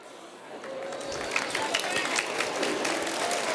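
Gala dinner audience clapping at a hall of fame event, rising from a soft start into steady, moderately loud applause with voices mixed in.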